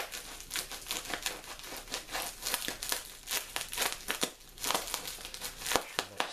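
A knife slits through a heavily taped cardboard shipping box, giving a run of close crinkling, tearing and crunching bursts with someone talking over part of it.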